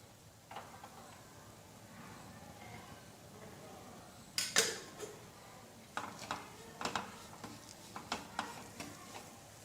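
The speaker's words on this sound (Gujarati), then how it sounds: "હવે આ રીતે આપણે મીડિયમ ગેસ ઉપર કન્ટિન્યુ ચલાવતા લોટને શેકી લેવાનો છે" Rajgira flour roasting in ghee in a pan on medium gas, a faint soft sizzle under scattered scraping and clinking strokes of a spoon, quiet and close, busier toward the end.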